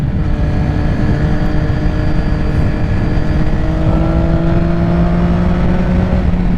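A sport motorcycle engine, either a 2006 Triumph Daytona 675 or a 2007 Yamaha YZF R6, revs hard and climbs in pitch while riding, a loud, continuous, buzzing high-rpm howl with wind noise and no talking.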